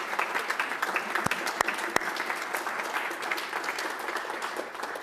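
Conference audience giving a round of applause, a steady, moderately loud wash of many hands clapping with a few sharp individual claps standing out near the start.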